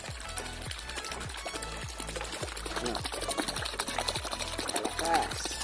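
Strong water gushes and splashes continuously into a fishpond, close by, mixed with a rhythmic mechanical pulsing throughout.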